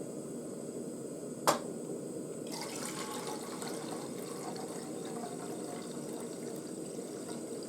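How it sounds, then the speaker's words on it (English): Water running steadily into a pan on a lit gas stove for canned mackerel miso soup, a continuous close splashing pour with one sharp tap near the start. "and then I add some water here."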